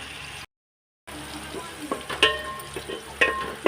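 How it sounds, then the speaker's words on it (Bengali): Something fries in a pan before rice goes in, a close steady sizzle broken by spatula scrapes and clinks that grow busier toward the end, following a short silent gap at the start. "দু মিনিট একটু ভেজে নি ঠিক আছে তারপরে হচ্ছে চাল দেবো"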